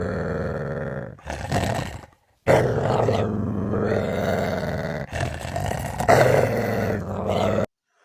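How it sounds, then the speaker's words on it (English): A tortoise growls in long, rough, throaty bursts, several separated by brief silences, loud and close, with no talking over them. "This is growling."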